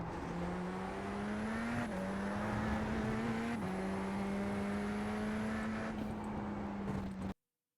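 Radical SR10 race car in the iRacing sim, its engine holding a loud steady high-pitched drone with two quick upshift steps, running alone until an abrupt cutoff.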